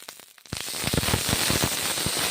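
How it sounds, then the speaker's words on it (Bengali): Tomatoes hitting a hot wok where brinjal and spices are frying: a quiet start, then a sudden loud burst of sizzling with dense popping crackles that holds steady to the end. "টমেটো কড়াইয়ে ছেড়ে দিলাম,"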